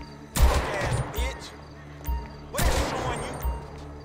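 Gunfire in GTA V with a zombies mod: two loud, sharp bursts of shots, each with a crashing tail, separated by quieter thuds.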